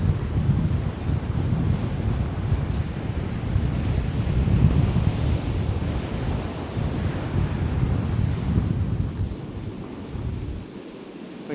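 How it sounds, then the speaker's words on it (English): Ocean waves wash onto the shore on a cold, windy morning, a continuous loud roar of surf mixed with heavy wind buffeting the microphone, fading slightly at the end. "let's go check out the ocean"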